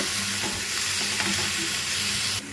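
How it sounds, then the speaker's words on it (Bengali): A fried cauliflower filling with chopped coriander is mixed in a pan, giving a continuous sizzle and soft scraping strokes that cut off sharply near the end, with no talking. "এবার আমি ধনেপাতা দিয়ে আবারও ভালো করে একসাথে সব মাখিয়ে নেব"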